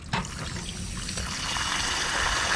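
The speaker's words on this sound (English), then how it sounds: "There's still a little bit of water that just came up" Water trickles and gurgles steadily from a spigot's vacuum breaker, a continuous close-up splashing flow that builds slightly over a few seconds with no voices.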